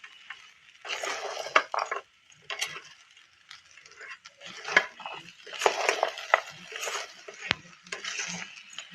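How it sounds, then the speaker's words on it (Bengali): Fried rice with cashews and raisins is stirred in a rice cooker. A spoon scrapes and clinks against the pot in repeated, close, uneven strokes. "ভালো করে নেড়ে নেবে তলার থেকে।"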